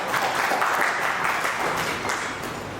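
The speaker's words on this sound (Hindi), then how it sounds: "एक बार जोरदार ताली।" Sustained, dense applause from an audience at a literary festival gathering, steady and fairly loud, holding for a few seconds before easing slightly at the end.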